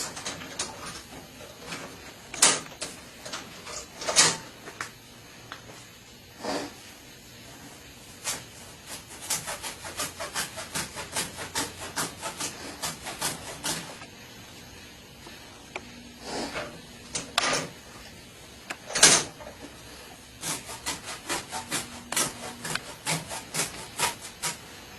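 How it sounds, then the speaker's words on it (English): An M9 bayonet's saw-back cuts through rope in irregular bursts of rasping, scraping strokes, close and moderately loud, with short pauses between passes and no talking. "go ahead and try the saw on the rope on the back on this. Yeah, cut through some rope with that."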